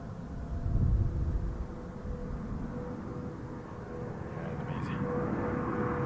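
Airliner rotating off the runway at Toronto Pearson, a low rumbling jet roar that surges early and then holds steady, fairly distant, with a voice talking faintly beneath it.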